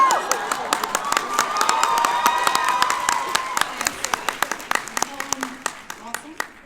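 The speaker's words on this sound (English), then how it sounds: "can we give them another big round of applause?" Audience applause at a convention fan panel, a broad wash of many hands clapping with scattered cheers that swells early and then thins into sparser, individual claps toward the end.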